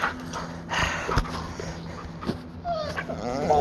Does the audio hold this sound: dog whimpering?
yes